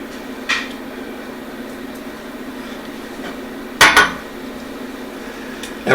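A utensil stirs cheese into au gratin sauce in a pot, producing a few sharp metallic clanks and scrapes against the pot, spaced apart over a low steady kitchen hum.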